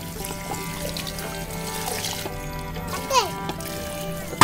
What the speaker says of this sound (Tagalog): Tapos, lalagyan siya ng tubig.